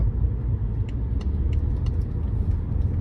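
Steady low road rumble inside a BMW F10 528i sedan with a straight-six engine cruising at about 50 km/h, quiet and even, with faint light ticks above the hum.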